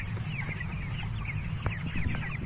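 Broiler chickens in a farm shed holding a flock of 6,000 birds cluck and chirp in a busy, overlapping chorus over a low constant hum, close and fairly loud.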